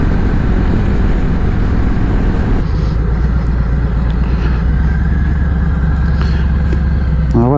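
A 2018 Harley-Davidson Sport Glide motorcycle engine gives a loud, close, continuous throaty rumble that holds steady for several seconds.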